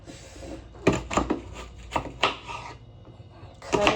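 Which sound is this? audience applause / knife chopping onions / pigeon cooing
knife chopping onions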